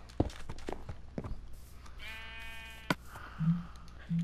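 Sheep in the Minecraft video game bleat in a clear, wavering call with harmonic overtones, heard alone after a few brief clicks and thumps, followed by low blips of game sound.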